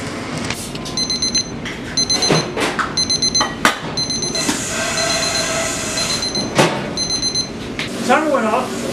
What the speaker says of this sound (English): The timer went off, and so now we're going to go check on them and rotate the pan.